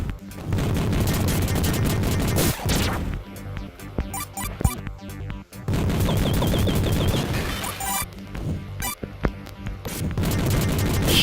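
Rapid gunfire rattles in the Vectorman video game, with bursts of shots and small booms over a loud, continuous game soundtrack, with brief gaps between bursts.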